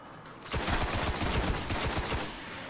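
Rapid bursts of gunfire from the Destiny beta on PlayStation 4, a dense run of loud, close shots starting abruptly and continuing steadily with no talk over them.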